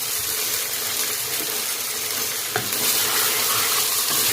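Mutton fries with garlic and ginger in a pan, giving a continuous loud sizzle and crackle. A single stir or clink comes partway through, and no voices are heard.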